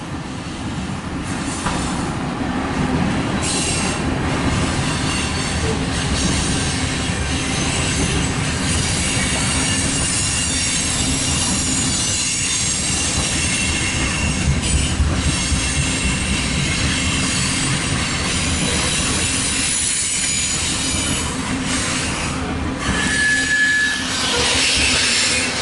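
CSX Q372 mixed freight train rolls past eastbound, a continuous close rumble of wagons with wheel squeal and clanking running the whole time.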